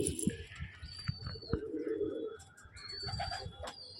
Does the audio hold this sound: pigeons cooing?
yes